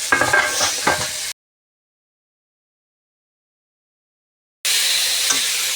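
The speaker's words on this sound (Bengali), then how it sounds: "বন্ধুরা এটা কষানো হোক।" Curry of potato, radish and eggplant is sautéed and stirred in a pan, with sizzling and spoon scraping at the start and again at the end, separated by a long silent gap.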